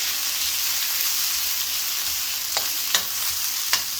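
Ginger tipped into a pan of softened, translucent frying onions, giving a steady close sizzle with a few sharp stirring scrapes toward the end.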